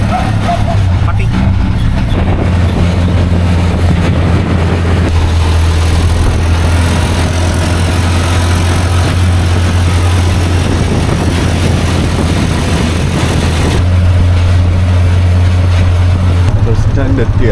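A passenger van's engine drones steadily through a rough ride on unpaved roads in northern Laos, a low continuous rumble with road noise, and voices talk over it throughout.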